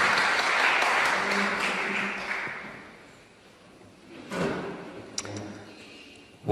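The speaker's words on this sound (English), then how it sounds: "Let's give him a round of applause." An audience applauds a speaker at a climate talk; the clapping is strong at first and then fades out over a few seconds, followed by quieter room sounds, a faint voice and a few knocks.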